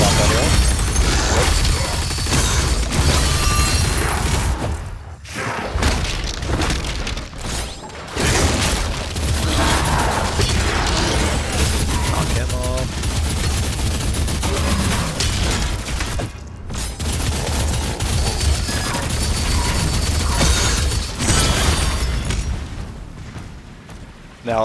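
Plasma gun fire in the video game Doom: The Dark Ages, a dense, continuous barrage of booming blasts and bursts with a few brief dropouts between volleys.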